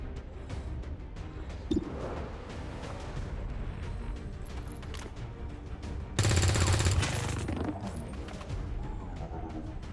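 XCOM 2 soldiers open fire in a game battle: bursts of gunfire and mechanical clatter at moderate level, peaking in one dense, louder volley partway through.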